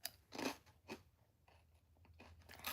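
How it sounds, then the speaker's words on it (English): Crunchy snack being bitten and chewed close to the mic during a live stream, with several loud crisp crunches in an uneven rhythm separated by quieter chewing. "I'm gonna stop crunching in y'all ear"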